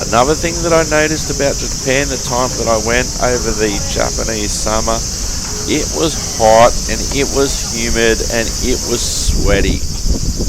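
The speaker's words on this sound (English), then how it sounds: "Hear the cicadas there in the background," Cicadas drone steadily through a hot, humid Japanese summer, a loud continuous high buzz running beneath someone talking close up throughout.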